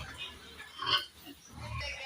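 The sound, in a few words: pigs eating durian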